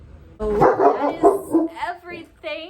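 A dog barks a few short, sharp times close by, partly overlapping a woman's speech in an indoor setting.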